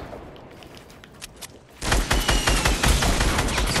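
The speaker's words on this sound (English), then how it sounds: "Blasting those rockets" Rockets firing in a video game battle: a few sharp cracks, then a dense burst of rapid blasts and explosions rolling on loudly to the end, without talk.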